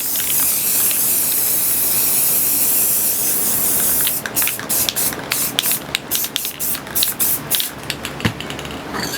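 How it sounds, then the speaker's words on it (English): A can of black spray paint hisses in a long continuous burst, then breaks into short rapid sprays and spurts, loud and close with no talking. "I'm going to go in here and just spray all black."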